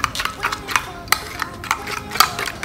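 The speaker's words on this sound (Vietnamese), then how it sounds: "tiếp theo là chị sẽ trộn đều trước đi" Slime mixture with glue being stirred in a container, a series of close sticky clicks and scraping taps in an irregular rhythm, with faint background voice.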